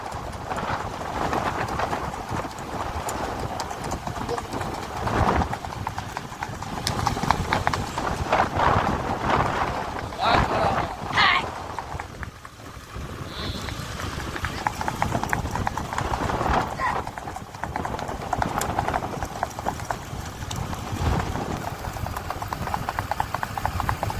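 Racehorse hooves clip-clop in a fast, steady gallop at a horse race in Kutch, with wind noise and occasional voices from the crowd.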